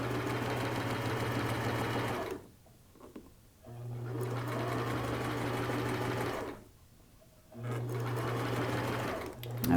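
A sewing machine stitches a turban in three long runs of steady, close, mechanical whirring, with two brief pauses where the needle stops.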